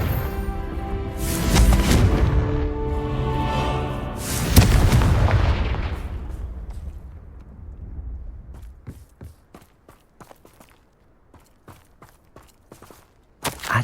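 Confringo fire spell blasts in the video game Hogwarts Legacy, heavy booming bursts in the first six seconds, then fading rumble followed by scattered sharp clicks and pops.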